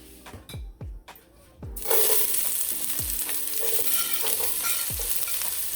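Onions dropped into hot oil in a pot for red beans and rice: a few soft knocks and thuds, then a sudden loud sizzle that holds steady and close, with occasional clanks of a spoon.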